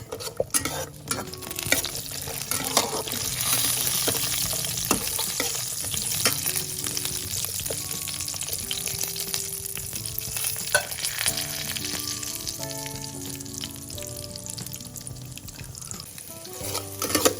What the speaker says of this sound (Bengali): কাজু এবং কিশমিশটাকে আমি হালকা করে ভেজে নেব